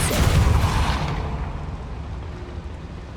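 The Depulso spell is cast in Hogwarts Legacy as a single forceful whooshing blast that starts loud and close, then decays into a long, rumbling fade.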